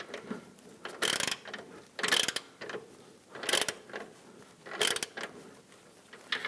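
Ratchet wrench gently snugging a control arm cam bolt on a 2006-2010 Hummer H3 front suspension, heard as about four short bursts of rapid clicking with pauses between, close and fairly loud.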